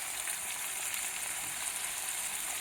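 Spices and tomatoes sizzle steadily in a pan with garam masala and coriander powder, a constant bright hiss with no voices over it.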